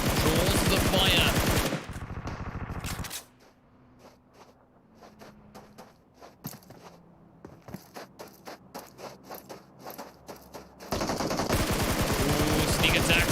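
Gunfire in a Clatter of Clans competitive match: a scattered run of sharp shots and clattering impacts in the middle stretch, framed by long, loud bursts of sustained firing at the start and end, with no talking.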